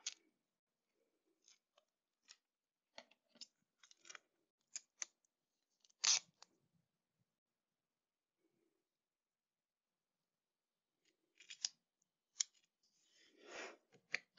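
Scissors snip through green duct tape for a craft flower stem, giving scattered sharp clicks and short crunchy cuts with quiet gaps between them, then a brief louder burst of tape noise near the end.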